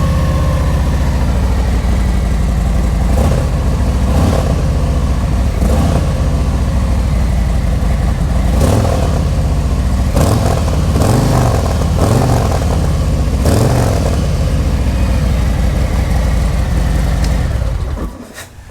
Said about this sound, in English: I'm going to start the bike up so you can hear what they sound like.